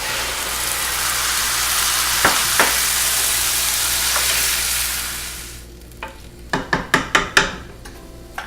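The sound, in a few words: chopped tomatoes going into the pot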